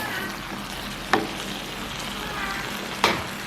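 Squid curry boiling in a pan: a steady low bubbling simmer throughout, with two sharp clanks of a spoon or lid about two seconds apart, close and alone without talk.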